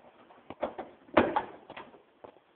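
Small door on a model wagon being opened, a string of light, close clicks and scrapes with one sharper mechanical knock in the middle, quiet and without talk.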